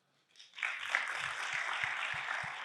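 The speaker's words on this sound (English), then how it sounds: "Round of applause, please." An audience at a cancer center event breaks into applause, which swells from silence into a steady, fairly quiet wash of clapping, with a few soft low thumps repeating underneath.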